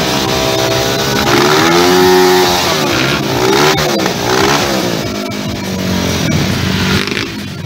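Racing motorcycles rev loudly and continuously at a circuit in Potosí during preparation for first practice, with engines rising and falling in pitch close by and no talk.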